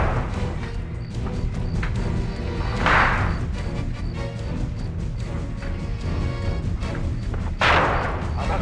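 Dense, continuous gunfire from a shootout with both sides firing fills the scene, a steady crackle of rapid shots with a couple of heavier bursts standing out, loud and sustained throughout.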